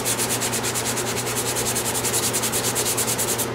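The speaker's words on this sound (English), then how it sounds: "now I just want to go over it with 220 grit just to blend all of the seams and smooth everything out" Hand sanding with 220 grit sandpaper over body filler on a custom motorcycle part makes a loud, close, steady scratching rasp that pulses in even back-and-forth strokes.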